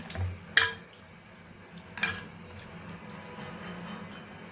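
A spoon stirs a marinated tilapia fish mixture in a kitchen bowl. The stirring is quiet and gives two distinct clinks against the dish over a faint background hum.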